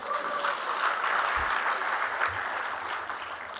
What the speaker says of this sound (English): I think you should clap for that.